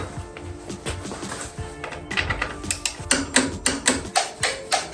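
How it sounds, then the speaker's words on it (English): A ratcheting wrench torquing bolts on a salvaged, crash-damaged 2021 Kawasaki Ninja 400, a close run of sharp metallic clicks that speeds into a steady rhythmic series of ratchet strokes. "Now I'm gonna torque all the bolts."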